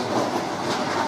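Steady rumble and clatter of a train rolling along rails, heard from inside a freight car on its floor, a dense continuous noise close and loud throughout.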